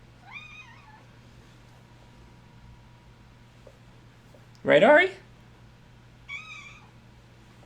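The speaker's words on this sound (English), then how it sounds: "That's my cat. She's a squeaker." A pet cat gives squeaky meows: a short pair near the start, a louder, longer burst just before five seconds and one more near the end, close to the mic over a low steady hum, with a person speaking briefly.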